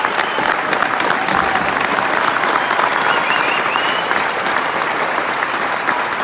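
Dense, steady applause from a large audience fills a graduation ceremony hall, many hands clapping at an even level throughout without any voice on top.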